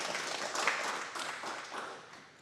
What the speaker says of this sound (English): Let's give our sponsors a round of applause.